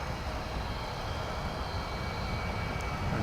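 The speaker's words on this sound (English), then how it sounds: "A couple of single engine propeller planes lining up." Single-engine propeller planes lining up at DFW Airport, a steady broadband engine drone with no talk over it.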